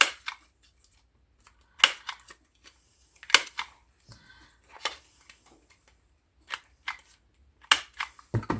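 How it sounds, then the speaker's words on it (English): A corner rounder punch clips the corners of a sheet of paper, giving several separate sharp clicks and snaps spread out with short silent gaps between them. "I'm going to round the corners on this."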